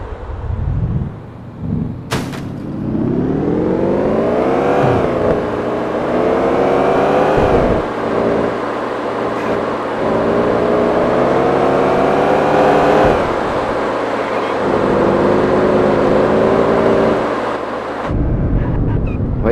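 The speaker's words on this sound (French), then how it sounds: "Je peux rentrer dans une voiture juste pour vous montrer. Voilà ce que ça fait." A car engine revs and accelerates through repeated rising sweeps while driving in the PS5 video game City Driver, loud and close, with brief drops between gear changes over nearly twenty seconds.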